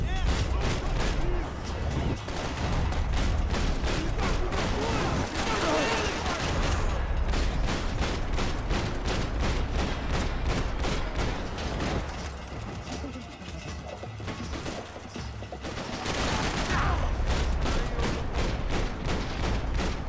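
Rapid bursts of gunfire in the video game Max Payne 3, with dense volleys of sharp shots and booming impacts running almost nonstop, loud and close, dipping briefly near the middle before resuming.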